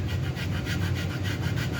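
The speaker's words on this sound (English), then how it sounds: "stone or a sanding block" A sanding stone or block rubs back and forth across a small-block Chevy engine main bearing cap, making a steady, close, gritty scraping that continues without pause.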